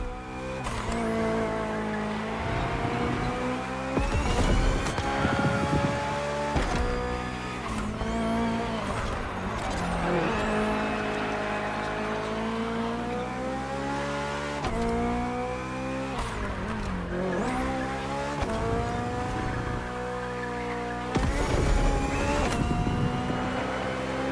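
A Hybrid V8 race car engine in The Crew Motorfest game, revving hard through repeated gear shifts with rising and falling pitch, loud and close, with bursts of tire squeal along the way and no voices.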